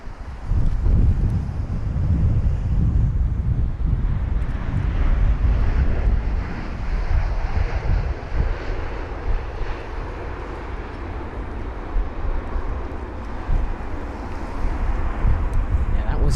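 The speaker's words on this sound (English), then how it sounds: "Flight number UA923 for the United Airlines 787 10 Dreamliner with the reg November 91007 from LAX Los Angeles" A United Airlines Boeing 787-10 Dreamliner arriving at London Heathrow, a broad, distant engine roar mixed with gusty wind buffeting the microphone, strongest at the start and easing to a steady hum.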